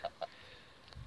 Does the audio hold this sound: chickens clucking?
yes